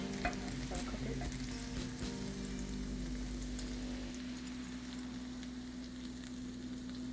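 Egg-soaked chocolate chip French toast frying in a pan, a steady continuous sizzle with a constant low hum running underneath, close and even throughout with no talking.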